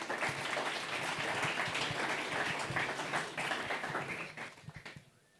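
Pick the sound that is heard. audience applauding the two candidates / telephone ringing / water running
audience applauding the two candidates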